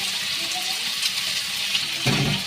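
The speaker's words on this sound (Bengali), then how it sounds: "এই যে আমি জল দিয়ে দিলাম" Water is poured into cornflour mixture for chilli chicken gravy in a kitchen, giving a steady close splashing stream with a louder gush near the end.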